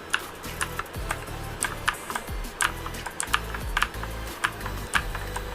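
Rapid typing on a Gigaware K28 mechanical keyboard, with sharp clicky keystrokes in quick irregular bursts and a few heavier thocks, close and moderately loud, with no voices.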